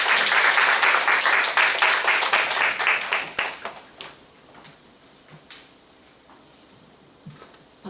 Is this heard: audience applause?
yes